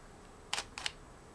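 A Nikon D5000 camera shutter in a dark room opens with a crisp mechanical click, then closes with a second quick double click about a quarter second later, close and isolated in a quiet room.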